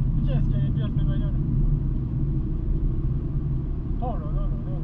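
Race car driving on the Zolder circuit, a steady loud engine drone heard from inside the car, with an excited voice talking over it at the start and again near the end.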